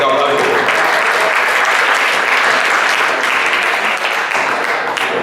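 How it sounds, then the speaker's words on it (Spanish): Strong, sustained applause from the audience at an academic panel on tourism, a dense clatter of many hands that stays loud throughout with some voices mixed in. "Un fuerte aplauso."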